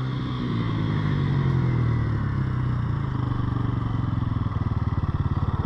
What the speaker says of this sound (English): So I made the four-wheeler a little faster for him.